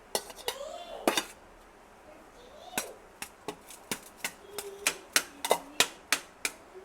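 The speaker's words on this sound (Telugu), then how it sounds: "బౌల్లోకి తీసుకుంటున్నాను అనమాట." Pulihora is scooped from a pan into a bowl, giving a series of sharp metallic clinks and taps of a utensil against cookware that grow louder and more regular toward the end.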